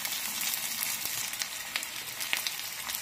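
Garlic, ginger and green chillies sizzle in hot oil for besan kadhi, giving a close, steady crackling hiss with scattered pops and light stirring. No one speaks.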